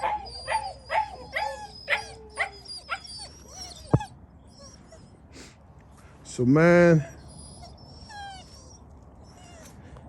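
Puppies, including a little cedar-colored pup, whimper and yip in rising, squeaky bursts, a rapid flurry at first and a louder drawn-out whine later, while someone talks over them.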